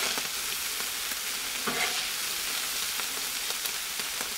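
Carne asada sizzles on a Blackstone griddle with a loud, continuous hiss and crackle, broken by a few scraping stirs from a spatula, and no voices over it.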